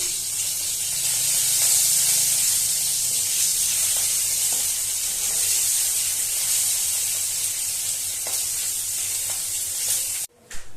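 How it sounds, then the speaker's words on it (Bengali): Magur catfish roe fries in hot oil with salt and turmeric, giving a loud, steady hissing sizzle that runs unbroken close up and then cuts out abruptly just before the end. "নুন আর হলুদ দিয়ে একটু ভেজে নিচ্ছি"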